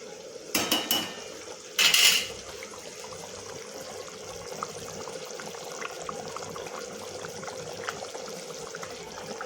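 A lid is set over a pot of cooked chicken skin with the gas turned off, giving a few close, bright metallic clanks in two quick bursts. A quiet, steady background hum follows, with no talking.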